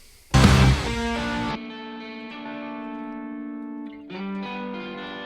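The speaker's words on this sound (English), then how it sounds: "Crunch. We've got his distortion." Distorted electric guitar in a mix strikes a loud, crunchy chord, lets it ring into a sustained buzzing tone, then plays a second, quieter distorted chord near the end.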